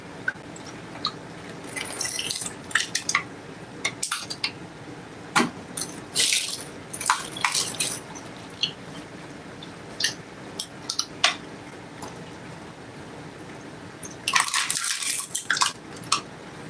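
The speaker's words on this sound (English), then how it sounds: "Hold on a second, guys, while I water my dog." Water runs and splashes into a dish for a dog, with clinks of the bowl and intermittent pouring bursts, fairly quiet and close, with no talking.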